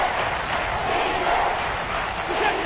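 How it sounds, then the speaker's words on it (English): A football stadium crowd roars steadily ahead of a big third down, a dense, loud wash of cheering and yelling that holds throughout without letting up. "The crowd getting into it as we come up on a big 3rd down."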